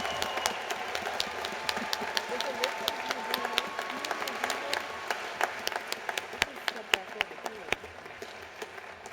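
Applause for Doctor of Nursing Practice graduates at a 2021 university commencement ceremony: steady, dense clapping from a large crowd, moderately loud and sustained throughout, with sharper individual claps standing out.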